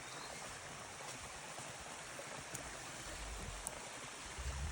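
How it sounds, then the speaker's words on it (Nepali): Steady rushing wash of flowing stream water, broadband and continuous, with a few faint clicks and low rumbles toward the end. "खानेपानीको स्रोत चाहिँ यसरी बगिरहेको छ"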